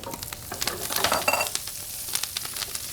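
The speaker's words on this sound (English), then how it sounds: "And into this pan, we're gonna take our halved washed Brussels sprouts." Halved, washed Brussels sprouts sizzle and crackle steadily in a pan of rendered bacon fat, with bursts of spattering and stirring, close and moderately loud, no talking.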